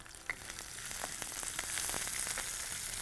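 Steady sizzling of onions and curry leaves sautéing in hot oil, with crackles and pops throughout and no voices.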